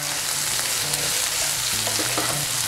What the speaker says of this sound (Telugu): ఇప్పుడు ఇందులో ఒక టమాటోని ముక్కలుగా కట్ చేసి ఇందులో వేసుకోవాలి